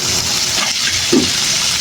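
Water poured into a cooking pot of pinakbet, a short gushing splash of liquid against the vegetables.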